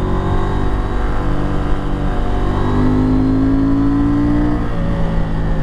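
A KTM 890 Adventure R Rally motorcycle with knobby tyres and a 21-inch front wheel accelerates hard on a twisty mountain road, its engine note climbing steadily and loud, with continuous wind rush and no voices.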